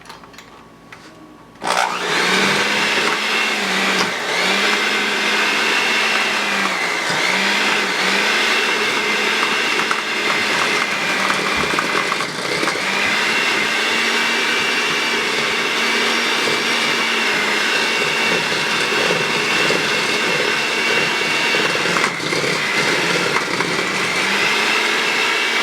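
An electric mixer creams butter with brown and white sugar, a loud steady motor whine that runs nonstop for over twenty seconds after a brief quiet start, with slight pitch dips as the beaters work.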